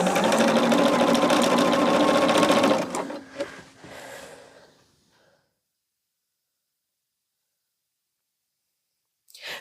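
A sewing machine runs in a fast continuous stitching whir for nearly three seconds, then slows through a few short bursts and clicks before stopping into silence.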